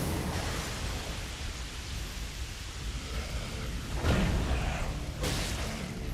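A boss's rain attack in the video game Elden Ring: a steady broadband hiss of pouring rain runs throughout, with a couple of louder whooshing swells partway through and near the end.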